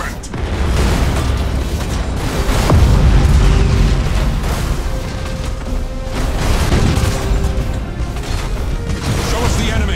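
Thunderhawk bombardment in the space battle game Battlefleet Gothic 2: a continuous barrage of loud booming explosions rolling on without pause, with heavier blasts swelling midway and again near the end.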